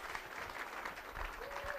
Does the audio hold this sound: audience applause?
yes